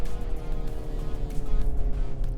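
Hyundai Ioniq 5 N electric car plays its synthetic engine sound, tuned like a boosted four-cylinder, as a steady close drone with slight surges under road and wind rumble.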